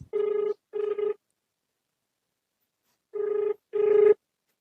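A telephone rings in two separate bursts of double rings with a pause between them, clear and close, while a call is placed to a customer. No one speaks.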